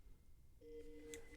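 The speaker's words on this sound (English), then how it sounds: "My phone is going nuts." A phone going off nearby: a faint electronic tone starts partway through and holds steady, with a brief brighter chirp near the end over a quiet room.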